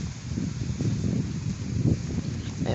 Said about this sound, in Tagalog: mapapansin nyo na napakalakas ng hangin, no?